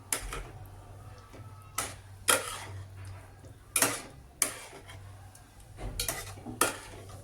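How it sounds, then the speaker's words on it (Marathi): A spoon stirs masala egg curry in a metal pan, clinking and scraping against the sides in irregular strokes, with several sharper knocks spaced through the stretch. No one speaks. "हे चांगलं असं हलवून घ्यायचं आहे, म्हणजे मसाला सगळ्या अंड्यांना"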